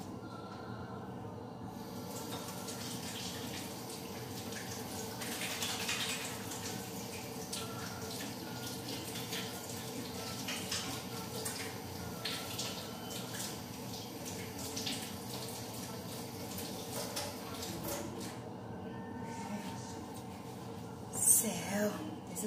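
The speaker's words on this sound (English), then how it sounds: "I need to wash my hands first." Hands washed under a running kitchen tap, a steady gentle water flow with soft splashing through most of the stretch, heard under quiet background voices and a few clatters.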